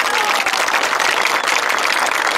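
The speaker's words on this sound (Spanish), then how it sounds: "Pues, fuerte el aplauso." Loud, dense crowd applause at a gathering against injustice, a continuous roar of many hands clapping with faint voices mixed in.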